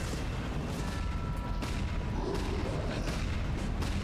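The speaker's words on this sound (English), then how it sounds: "I'm going to wait for these explosions to go off." Explosions go off in a video game during a speedrun event, a steady rumbling barrage of booms and blasts that fills the whole stretch at a constant loud level, with no talk.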